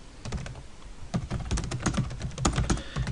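Answers typed on a computer keyboard in a classroom setting, with quick irregular bursts of plastic key clicks close by and no talking.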